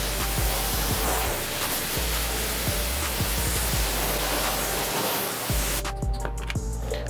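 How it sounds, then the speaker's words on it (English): Constant hiss of water spraying onto a car wheel during rinsing, broad and close, with a few faint knocks underneath before the spray cuts off near the end. "I'm gonna rinse it off."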